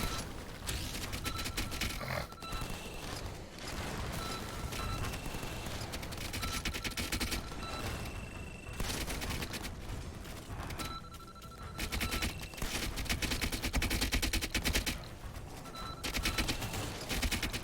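Rapid automatic gunfire and explosive bursts rattle almost nonstop at the player in a video game, loud and close, with brief lulls and occasional ringing electronic tones.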